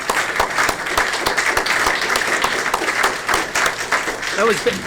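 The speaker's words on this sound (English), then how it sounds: "So let's give them an extra round of applause." Scout troop court of honor audience clapping in a sustained, fairly loud round of applause that carries evenly to the end.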